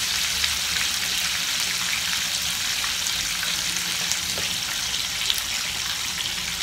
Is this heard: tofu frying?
yes